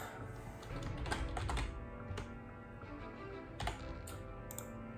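Typing on a computer keyboard comes through faintly as scattered clicks under a steady, loud background hum and rumble, with no clear voices.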